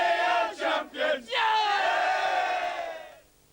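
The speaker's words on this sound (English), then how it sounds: "Let's have a big cheer out of it!" A football crowd cheering for the champions at Upton in the early 1990s: loud chanted bursts of voices, then one long sustained roar that fades away.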